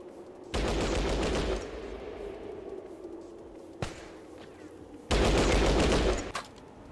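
Automatic gunfire in the tactical game Fallout Tactics, two loud sustained bursts of rapid shots about a second long each, separated by a single sharp crack and quieter game ambience.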